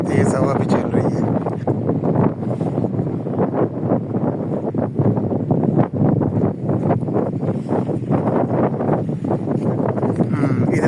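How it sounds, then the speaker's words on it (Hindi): Strong wind roars steadily against the microphone at the East Hidd seaside in Bahrain, a loud continuous buffeting rush with no pause across the stretch. "और तेज़ हवा भी चल रही है।"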